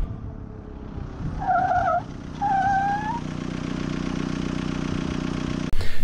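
A Willys Jeep brakes hard from 35 mph with its rear wheels locking, giving two squealing tire skids over a loud running engine, followed by steady engine drone.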